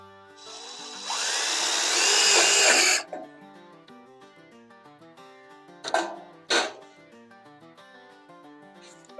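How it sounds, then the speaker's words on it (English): A power drill whirs loudly for about two seconds as it drives a half-inch self-tapping metal screw during outdoor kitchen framing, then drops away, followed by two short sharp bursts of tool noise amid quieter tonal sound. "Self-tapping metal screw, 1/2 inch is all you need here."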